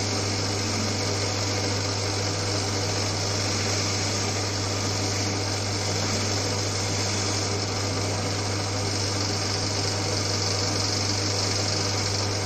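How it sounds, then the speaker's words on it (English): An old Winfield lathe motor hums steadily while turning a boss, a constant drone with a strong low mains-like tone and even machine noise throughout, no voices. "The motor doesn't sound bogged down whatsoever"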